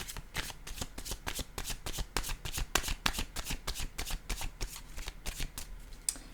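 Tarot cards being shuffled by hand in quick repeated riffles, a steady rhythmic flutter of crisp snaps, close and fairly soft.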